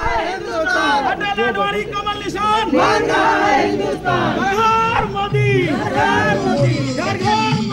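Dense crowd chatter and excited shouting from people gathered to catch a glimpse of BJP leader Smriti Irani campaigning in Amethi, a continuous loud babble of many voices with occasional cries rising above.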